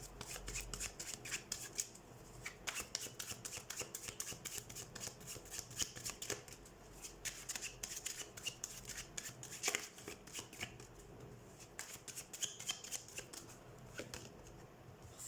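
Tarot cards are shuffled by hand in a rapid, continuous flurry of crisp riffling and slapping, close and fairly quiet, with no talking.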